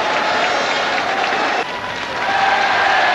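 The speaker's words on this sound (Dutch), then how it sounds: "Publiek feliciteert de Flyers" Arena crowd breaks into loud, sustained applause and cheering for the Flyers after an ice hockey goal in a 1983 playoff game against HYS Nikon Stars, a dense steady roar that dips briefly midway and swells again.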